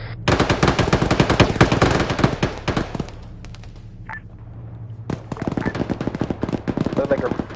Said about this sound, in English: There is something shooting 40 miles from the area.